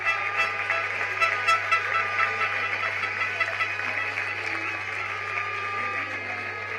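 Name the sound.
rugby crowd applauding kicker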